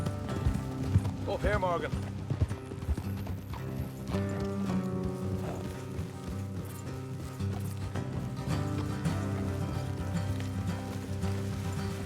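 Horses' hooves clip-clop along a road in Red Dead Redemption 2, a steady rhythm under a game music score, with a voice briefly calling out and a horse whinnying early on.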